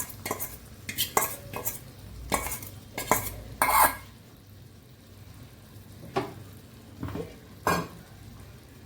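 Spice paste frying with tomatoes in a pan for paneer kofta curry, with repeated sharp scrapes and clanks of a spoon stirring over a soft sizzle, coming in irregular bursts.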